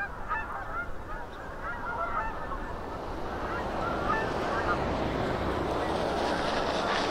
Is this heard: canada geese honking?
yes